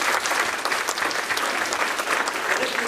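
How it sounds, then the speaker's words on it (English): An audience at a nonprofit seminar in San Rafael gives the kitchen staff a steady round of applause, dense and even clapping filling the room for a few seconds. "Let's give them a round of applause."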